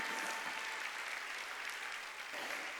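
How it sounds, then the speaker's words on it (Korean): A church congregation claps together during a Sunday worship service, a sustained wash of many hands in a large hall, even and fairly loud throughout with no voices over it. "박수치고"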